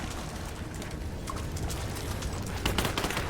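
Gunfire in Tomb Raider comes as a steady, dense rattle of shots through a noisy combat background, growing slightly louder and sharper near the end, with no clear speech.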